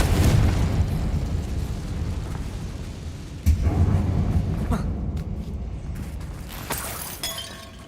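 A Confringo blasting spell in Hogwarts Legacy erupts with a heavy booming blast and shattering debris, then a second thump around midway, with rumbling fallout tailing off and faint magical chimes near the end.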